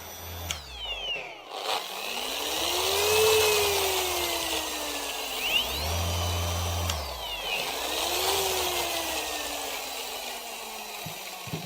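A Rupes HLR15 polishing machine spins up with a short rising screech, then runs as a smooth, fairly quiet whir that ramps up and down a few times.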